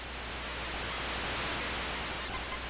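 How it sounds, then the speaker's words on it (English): White noise generator from the T&C Surf Designs: Wood and Water Rage video game, a steady, loud hiss of static that holds evenly throughout with no other sounds. "this is just a white noise generator"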